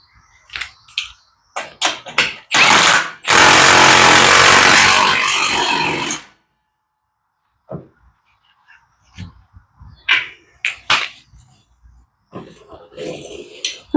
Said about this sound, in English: Went ahead and put it on my tire machine there